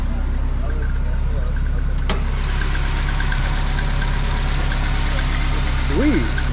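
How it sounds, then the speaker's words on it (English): A Nissan 300ZX with a swapped KA24DE engine and custom-fabricated exhaust idles steadily, a close, continuous low rumble throughout, with a brief click and faint background sounds over it. "Before I turn off the engine, let's check how it's looking."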